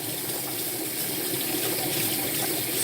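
Tap water runs steadily into a sink to soak a dry sponge for a fish tank, a continuous close, even splashing gush with no pauses.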